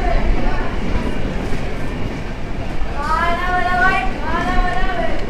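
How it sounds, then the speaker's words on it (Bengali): Kanchan Kanya Express standing at Bardhaman railway station at night, with a steady broadband rumble of the train and platform and a few wavering high tonal squeals partway through, under people talking. "তো এই হচ্ছে বর্ধমান স্টেশন।"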